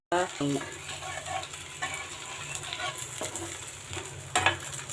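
Rice-flour adai fries in oil in a pan, giving a constant crackling sizzle with a few scraping and clinking sounds from the utensils. A faint murmur of voices sits in the background.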